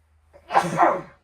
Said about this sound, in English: I sneezed in my arm, but I don't think I cut it off enough.